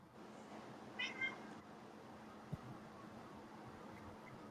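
A cat gives two short, faint meows close together over a steady fan-like hum, followed by a single soft tap.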